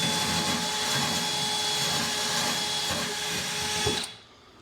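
A power grinder strips paint from around the livewell hole on a 1448 Lowe jon boat, a steady, loud, continuous abrasive whine that runs for about four seconds before cutting off abruptly.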